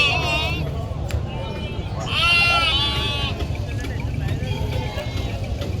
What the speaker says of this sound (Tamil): ஆடு நல்ல வெள்ளை ஆடு.